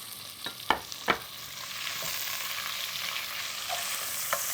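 Onions frying in a pan and being stirred, a continuous hissing sizzle close by with a few sharp scraping knocks of the spoon near the start and one more toward the end, no talking.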